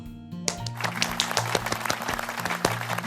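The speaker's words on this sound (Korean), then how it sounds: "박수 쳤죠?" Applause from a children's church service group, with dense claps over a steady low musical drone and occasional louder accents, filling the full few seconds.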